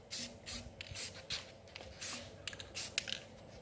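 A spray can coats wooden timbers for farmers carry handles in short hissing bursts, about eight quick sprays with brief gaps, close and fairly soft, with no talking.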